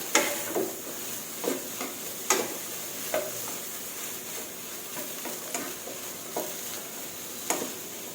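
Wax gourd is stir-fried over high heat in a pan, with a steady sizzle and a repeated rhythmic scrape of the spatula about once a second, close and clear.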